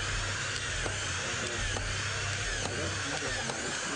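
Power screwdriver whining as it drives PAM drive-recess screws into AdvanTech subfloor panels, a steady motor hum broken by repeated short bursts of higher-pitched spinning, heard up close amid faint trade-show background noise.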